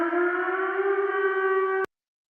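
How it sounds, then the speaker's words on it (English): Civil defense siren holding a steady, loud, harmonic wail that cuts off abruptly near the end, leaving silence, with no voices. "The siren's going."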